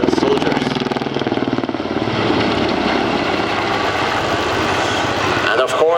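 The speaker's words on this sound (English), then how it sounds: "how a big helicopter like the Super Puma helicopter can turn within a so short radius" A large Super Puma helicopter turning in a tight radius, its rotor chopping rhythmically and loudly at first, then blending into a steady, roaring engine and blade wash.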